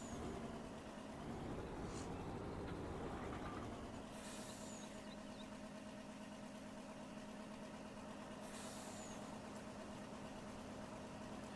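A Hayes HDX logging truck in Farming Simulator 19 idles with a low, steady engine drone while short sharp hisses of air brakes burst out a few times, fairly quiet overall.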